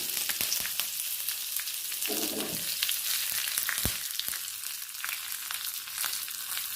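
Curry leaves and chillies fry in hot tempering oil for a Kerala spinach curry, producing a constant dense crackling sizzle with sharp spits and pops throughout.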